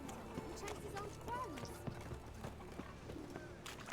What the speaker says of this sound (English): Nice horse.